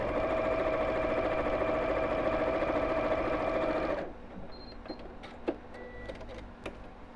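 A sewing machine top stitching a box bag runs in a steady, loud whir for about four seconds, then stops, leaving quiet handling clicks and small taps.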